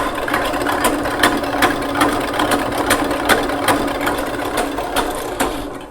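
An electric mixer whirs steadily at high speed beating cake batter, with a continuous close motor drone and faint rhythmic ticking throughout.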